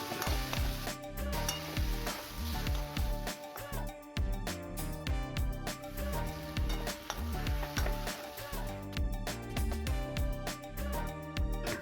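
Capsicum coated in spice mix frying in hot oil with cumin and chopped garlic in a kadai, a steady, dense sizzle with stirring that holds throughout and has faint background sounds underneath.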